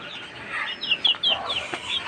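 Farm-raised chicks and chickens cluck and chirp in a run of short, bright calls close by, with no talk in the clip.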